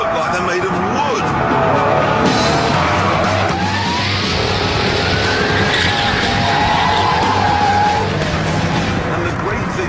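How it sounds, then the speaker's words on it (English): A Jaguar XKR in a high-speed power slide, tyres squealing and skidding over a loud, continuous engine roar, with someone talking over the noise throughout. "that's doing power slides at like 110 miles an hour"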